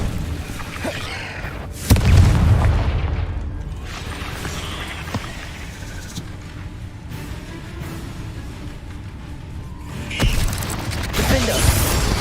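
In the Hogwarts Legacy video game, a Confringo spell goes off inside a cave with a sudden low boom, followed by rumbling and a second blast later, among mechanical clatter.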